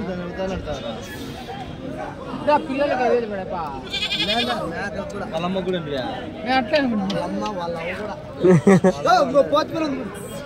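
Goats bleat repeatedly at a crowded weekly livestock market in Kadiri, with loud nearby calls rising over continuous chatter from the crowd.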